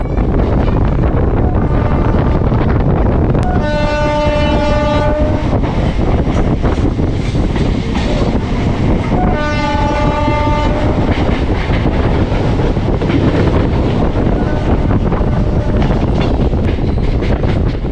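A moving local passenger train in rural West Bengal on the Howrah–Midnapore line near Panskura, loud continuous rumble and wind from on board, with two long horn blasts.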